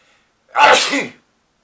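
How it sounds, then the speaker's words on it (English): A single sharp sneeze bursts out loud and close, then cuts off into silence. "Ninja sneeze."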